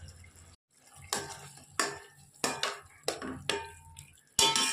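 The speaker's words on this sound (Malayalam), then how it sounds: "ഞാൻ കുറച്ച് വെളിച്ചെണ്ണ ഒഴിച്ചിട്ടുണ്ട് നമുക്കിത് നന്നായിട്ട് യോജിപ്പിച്ചെടുക്കാം" Chicken stirred with coconut oil in a pan for Kerala-style roast chicken, about five distinct scraping, clattering strokes of a utensil against the pan, close and moderately quiet between strokes.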